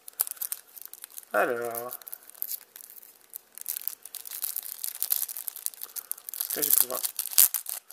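Crinkling plastic packaging being torn open on a pack of fake Pokémon cards, steady rustle and crackle running throughout, close by, with a person speaking briefly over it.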